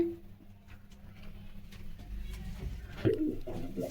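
Pigeons from a pair of breed pigeons kept for sale coo softly and close by, with a few scattered coos that swell louder near the end while people talk quietly nearby.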